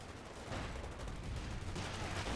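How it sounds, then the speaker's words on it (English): Continuous distant gunfire crackles at a fighting position in the World War II strategy game Company of Heroes 2, Ardennes Assault, a dense steady barrage holding level throughout with no voices. "One of our fighting positions is sustaining fire."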